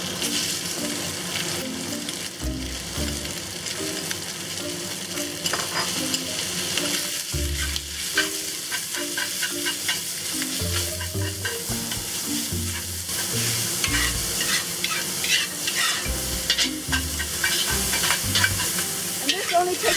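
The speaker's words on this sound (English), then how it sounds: "next we'll cook up the pork" Minced pork stir-frying in oil in a wok, a dense sizzling hiss with frequent scraping and tossing strokes of a spatula, close and sustained, bursts of clatter at intervals; a faint watery rush runs underneath.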